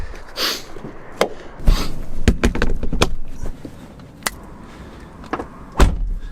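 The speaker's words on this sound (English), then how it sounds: "Let's get this bonnet back down and then jump back inside." Several sharp metallic thuds and clunks of a Honda S2000's bonnet being handled and shut, spaced irregularly over a quiet background, one loud slam near the end.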